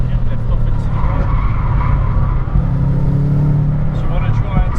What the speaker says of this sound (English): Onto the brakes here. Hard braking.